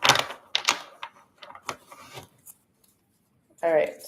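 A deck of tarot cards is shuffled close up in short, crisp riffling and rasping bursts, a quiet pause, then one final longer rasp.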